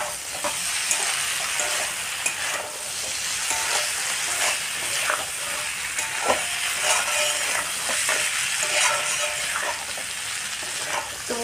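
Chopped tomato goes into a pan of frying cauliflower and potato masala, giving a steady, close sizzle with scattered light stirring clicks and scrapes throughout, with no voices.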